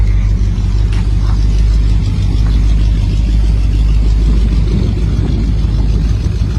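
A pro street muscle car engine rumbles loudly and steadily close by, a deep continuous drone with slight rises in revs.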